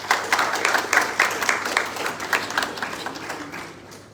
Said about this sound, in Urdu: آپ کی بھرپور تالیوں میں جنرل سیکرٹری اشرف علی۔